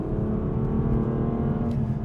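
A car with a dual-clutch gearbox brakes firmly into a track hairpin, its engine a loud, continuous drone with a brief pitch change near the end as a gear is swapped.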